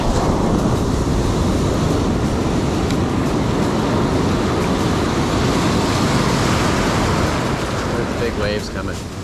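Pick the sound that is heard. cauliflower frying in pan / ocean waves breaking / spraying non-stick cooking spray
ocean waves breaking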